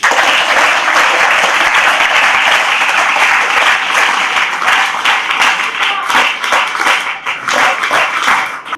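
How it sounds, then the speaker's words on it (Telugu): Sustained, dense applause from a crowd of school students, loud and steady throughout with many overlapping claps and no break. "వీళ్ళందరికీ క్లాప్స్ ఇవ్వండి."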